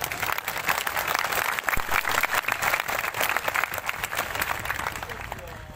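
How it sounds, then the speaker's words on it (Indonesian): Crowd applause at the Kera Sakti martial arts group's 42nd anniversary gathering, a dense sustained clapping that stays strong and close before easing slightly at the end, with a voice speaking over it. "Tepuk tangan untuk Kerasakti."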